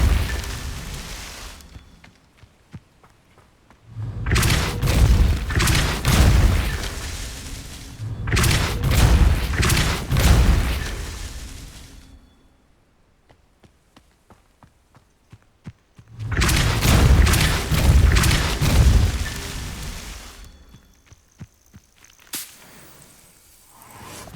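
Spells cast in the Hogwarts Legacy video game, including fire, levitation and repelling spells, erupt as loud booming bursts and whooshes in three long surges separated by quieter ticking pauses.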